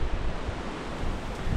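Strong wind blows across a mountainside on Crete, a steady, close rushing roar buffeting the microphone with low rumbling gusts throughout.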